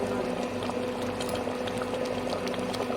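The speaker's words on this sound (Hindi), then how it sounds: "पानी मिला लेंगे और इसे फिर 1 मिनट तक इसी तरह से चलाते हुए पका लेंगे" Shahi paneer gravy with added water simmers in a pan while being stirred, giving a steady close bubbling and gentle liquid churning that holds at an even level throughout with no talk.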